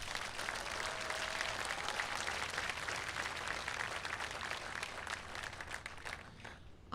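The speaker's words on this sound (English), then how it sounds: "let's give the governor a round of applause." A crowd applauds the governor at a solar energy initiative event, dense sustained clapping at low level that thins toward the end.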